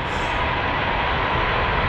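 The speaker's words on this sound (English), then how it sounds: "Sorry, the train. I hope you hear me." A passing train outdoors in the mountains, a loud, close, continuous broadband roar that holds steady throughout.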